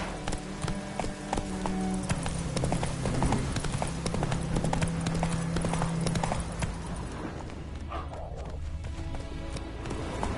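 Galloping horse hooves in The Witcher 3 game, a steady fast clip-clop rhythm running loud and continuous over a bed of music, with a brief whinny-like tone midway.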